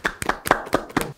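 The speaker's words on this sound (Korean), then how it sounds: "박수." A small audience claps at an awards presentation event, a brief burst of about six or seven sharp, close hand claps lasting just over a second.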